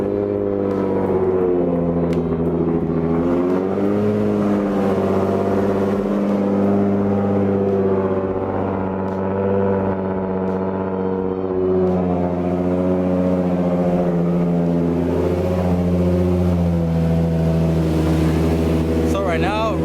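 An untuned car engine idles roughly right after an Aeromotive 340 fuel pump install, a loud steady rumble with uneven wavering tone and slight rises in revs throughout.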